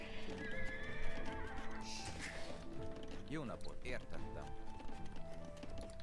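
Knights' horses in a video game whinny and hooves clip-clop amid busy game sounds, with a neigh rising clearly midway while a voice talks throughout.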